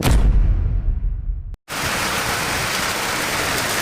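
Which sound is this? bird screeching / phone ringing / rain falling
rain falling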